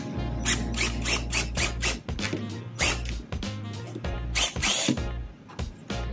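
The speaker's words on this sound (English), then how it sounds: "a piece of pine and drilling into it with just a screw" A power drill whirs in short, repeated bursts as a screw is driven into pine without pre-drilling, close and fairly loud, with brief pauses between pulses.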